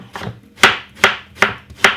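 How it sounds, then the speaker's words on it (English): A knife chops spring onion on a board in sharp, close, rhythmic strikes, five evenly spaced chops with nothing else heard. "Second thing is some spring onion, which is I'm cutting up."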